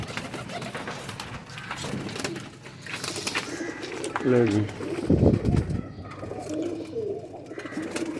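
Pigeons in a keeper's collection coo and call in short, rising bursts near the middle, mixed with rustling and a busy loft background, while someone talks over parts of it.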